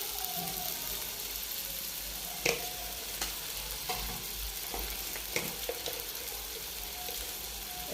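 Tomatoes and chili powder frying in a pan for a Kerala-style chicken roast, stirred with a few sharp scraping clicks over a steady, fairly quiet sizzle.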